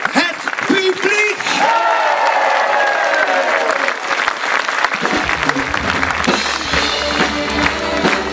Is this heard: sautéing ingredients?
no